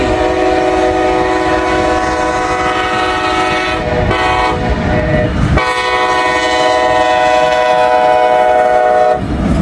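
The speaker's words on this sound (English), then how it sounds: "We got a CSX auto rack here. First CSX train of the day." A CSX freight train of auto rack cars rolls steadily past close by, its horn sounding in long sustained blasts over the constant rumble and clatter of the cars.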